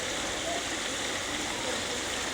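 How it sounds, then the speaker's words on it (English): Water from an upper koi pond spills down into a lower pond beside a restaurant dining area, a steady, close, even rush of splashing and trickling with no break. "here's an upper pond with the water flowing on the backside, flows towards this pond right here, and then it falls down onto this bottom pond"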